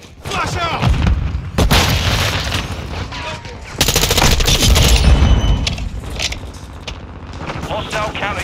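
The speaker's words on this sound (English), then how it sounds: "Flash out." A flashbang grenade detonates in Call of Duty Modern Warfare 2 multiplayer, a loud, dense burst amid ongoing gunfire and battle noise, with voices calling out over the action.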